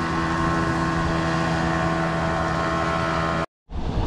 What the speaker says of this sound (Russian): Ух, какая крутая моторка. Несется на всех парах.